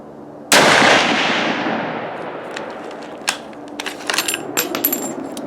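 A single loud rifle shot cracks at a target range and decays in a long echo, followed by lighter metallic clicks and clatter of handling the bolt.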